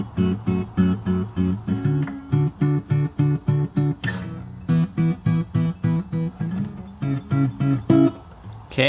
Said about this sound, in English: So let's get started with the intro.